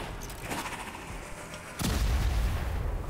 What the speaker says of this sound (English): set off the fire trap as well. That explosion.